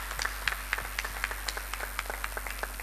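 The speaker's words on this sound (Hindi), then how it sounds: "इनके लिए भी तालियां हो जाएंगी" Sparse, fairly faint clapping from an audience at a hall event in India, with crisp individual claps at an uneven pace over a low steady hum.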